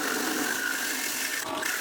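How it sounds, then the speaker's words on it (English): An electric drill runs at speed, held in a support jig while working on a steampunk time zone clock, giving a steady, continuous whine at an even level without any talk. "I've sped the drill up again"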